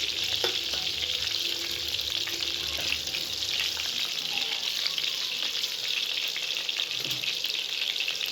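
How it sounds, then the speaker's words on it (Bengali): Steady, dense sizzling of covered potatoes frying in a pan, a constant crackling hiss that fills the whole stretch with no voices. "আলুগুলি ভাজা হচ্ছে"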